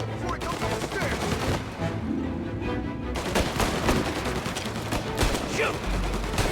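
Rapid gunfire rattles almost nonstop in a Mafia Definitive Edition shootout, with dense, close bursts and a short lull in the middle. Voices shout over the shots.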